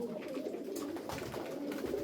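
Pigeons coo softly and continuously in a loft of fancy flying birds, a low murmuring burble sitting under a constant background hiss, fairly faint.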